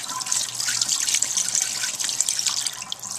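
Tap water runs steadily into a glass jar of sprouts as they are rinsed, a close, continuous splashing hiss with a bright trickle throughout and no voices.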